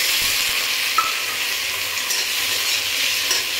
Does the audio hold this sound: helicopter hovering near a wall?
no